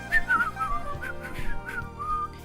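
A person imitates nervous whistling with a string of short, wavering whistled notes, fairly close and clear, with no talking over them.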